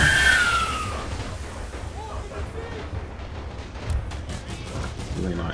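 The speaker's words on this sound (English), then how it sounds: "Really not sure how effective the machine guns are being right now" Dense, continuous battle gunfire rumbles in a World War 1 mod for Napoleon Total War, rolling artillery and rapid machine gun bursts blending into a loud, steady din with faint shouts underneath.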